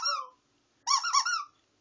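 A rubber dinosaur toy squeaks twice, a short squeak then a longer wobbling one, close and clear against silence.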